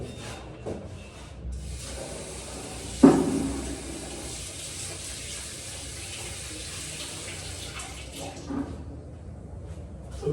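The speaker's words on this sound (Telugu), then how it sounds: "ట్యాబ్లో వాటర్ తీసుకుంటాను" Water runs steadily from a tap with a continuous hiss, briefly bumped by a clunk near the start, no talking.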